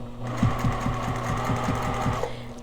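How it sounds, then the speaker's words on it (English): Sewing machine stitching across a fabric tab with a quarter-inch foot, a steady rapid mechanical hum with regular needle thumps, close and alone, stopping near the end. "sewing machine, let's go ahead and sew our tab here"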